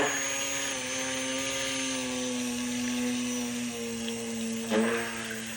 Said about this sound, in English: Let's go ahead and use our stick blender just to make sure everything is very well incorporated.